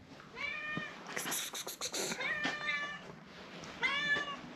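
Several cats meow repeatedly in a snowy outdoor spot near a fishing catch, with a few close, clear meows at the start and again near the end amid rustling background noise.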